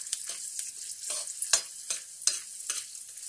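Dry fruits and raisins roasting in ghee for a carrot peda sweet: a soft, continuous sizzle broken by about eight crisp spatula strokes against the pan, close and quiet.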